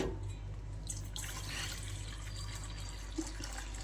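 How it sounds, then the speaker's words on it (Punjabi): Hot water poured into a metal utensil gives a faint, steady splashing pour over a low background hum. There is no talking. "ਇੱਥੇ ਆਪਾਂ ਲੈ ਲਏ ਜੀ ਬਰਤਨ ਤੇ ਇਹਦੇ ਵਿੱਚ ਆਪਾਂ ਪੂਰਾ ਗਰਮ ਪਾਣੀ ਲੈ ਲੈਣਾਗਾ"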